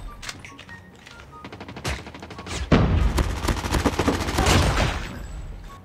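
Gunfire in an online shooter video game, including sniper shots, as a dense rapid run of sharp cracks and bursts over a steady background, growing louder and busier partway through, with no speech.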